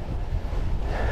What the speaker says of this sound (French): il y a ce petit vent là